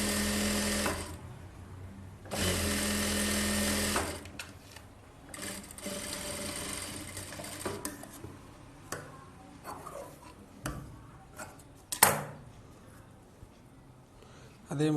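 A sewing machine stitches blouse fabric in short bursts, with two long steady runs early on and then brief stop-start stitching and handling clicks, close and moderately loud.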